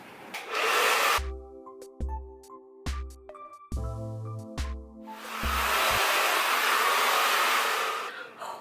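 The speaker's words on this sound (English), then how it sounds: "So I've been diffusing probably for 10 minutes, 15 minutes" A hair dryer with a diffuser attachment dries curly hair, its loud steady whoosh cutting out and restarting several times amid tonal whirring, then running continuously near the end.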